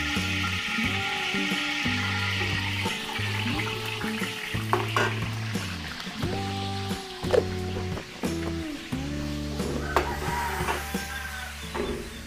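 Margarine and a little oil sizzle in a Filipino cooking pot (putsero) on the stove, a steady close frying hiss with stirring and clattering utensil knocks throughout, no talking.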